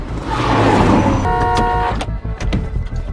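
A car speeds away in a film chase, pursued by a green van, its engine roar steady and loud before shifting gears, with a brief toot and other vehicle noises following.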